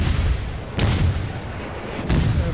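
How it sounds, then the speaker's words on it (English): Naval gun salvos fired at an enemy cruiser in a warship video game, a few deep booming shots spaced over a couple of seconds, each with a sharp onset over a heavy rumbling background. "I adjust my aim and fire a few more shots"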